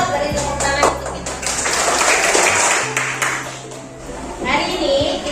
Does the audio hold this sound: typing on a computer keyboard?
no